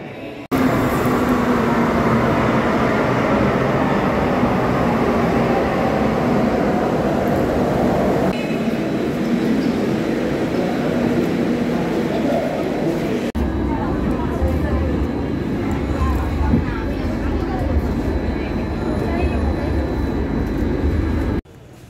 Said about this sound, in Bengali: ওয়েট করছি মেট্রোর জন্যে, মেট্রো এলে তারপরে এখান থেকে রওনা দেবো।